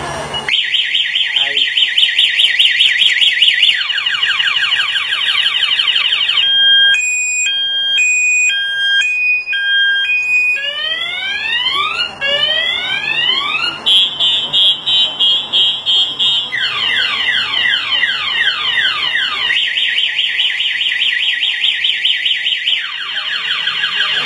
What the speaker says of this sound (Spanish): la alarma se va a disparar y más adelante va a apagar la moto y ya no la va a dejar encender más